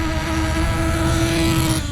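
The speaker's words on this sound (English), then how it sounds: "This is full throttle. Full throttle coming back, watch." A Hobao Hyper SST nitro RC car engine screams at full throttle during break-in, a loud, steady high-pitched whine that holds without a break, close to the listener.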